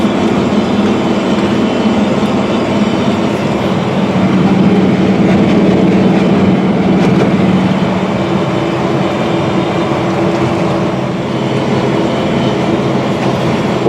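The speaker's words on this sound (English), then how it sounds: "it's always neat to see these big sprayers running" A John Deere R4045 self-propelled sprayer spraying wheat fills the space with a loud, steady mechanical drone and rattle, heard from close by without pause.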